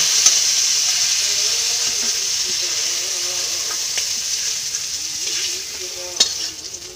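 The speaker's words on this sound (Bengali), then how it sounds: "তেল গরম হয়ে গেছে, চিংড়ি মাছগুলো ভেজে নেব।" Prawns fry in hot oil in a kadai, giving a steady, loud sizzling hiss that runs throughout with a few faint clinks of stirring near the end.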